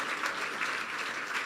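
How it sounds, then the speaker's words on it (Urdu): Steady applause from a congregation at a church service, a dense continuous patter of many hands clapping throughout, fairly loud and close. "پھر بجا دیں تالیاں یسوع کے لیے"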